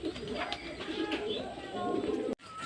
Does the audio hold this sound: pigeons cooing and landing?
yes